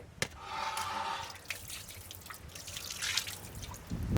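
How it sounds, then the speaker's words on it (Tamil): Lime juice squeezed into a large batch of goat mutton biryani cooking outdoors in a village kitchen, a few sharp splashes and drips over a steady liquid trickle. "எலுமிச்சம்பழம் சாறு"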